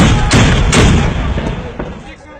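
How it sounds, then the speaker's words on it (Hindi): Heavy gunfire booms loud and close in a military exchange, a few sharp reports standing out over a dense rumbling blast that slowly fades. "अच्छा आगे से फायर शुरू।"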